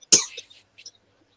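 A single hard cough bursts out at close range, followed by a couple of fainter throat sounds trailing off into silence.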